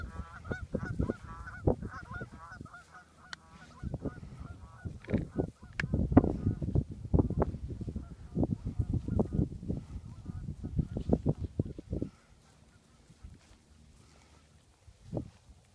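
Waterfowl honk repeatedly in a marsh during a dog walk. The calls come in irregular bursts, close and clear, then trail off near the end.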